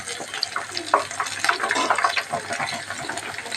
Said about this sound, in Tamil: கடைசியாக வறுத்து எடுக்கிறதுல வந்து கருவேப்பிலை கொஞ்சம் மேலே போட்டு விட்டோன்னா நல்லா டேஸ்ட்டாக இருக்கும்